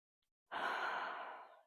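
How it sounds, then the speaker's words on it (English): A deep breath in, taken in a kids' yoga session, drawn as one long, soft inhalation that swells quickly and then tapers away over about a second. "Take a deep breath in"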